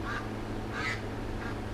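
Ducks quacking outdoors, three distinct nasal quacks spaced apart at moderate distance over a steady low hum.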